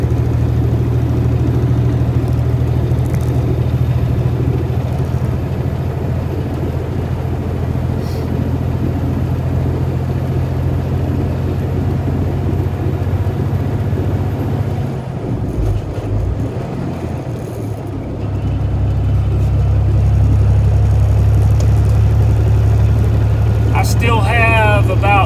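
A car engine drones steadily while driving through the I-70 mountain pass, a loud, continuous low rumble with road noise that dips briefly midway before resuming.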